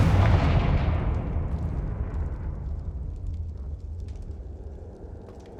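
A Confringo fire spell detonates in Hogwarts Legacy with a loud, deep blast at the start, then a rumbling roar that slowly fades over several seconds.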